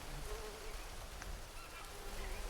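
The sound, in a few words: fly buzzing in Green Hell video game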